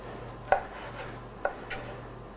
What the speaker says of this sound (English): we're just going to cut them up here with our knife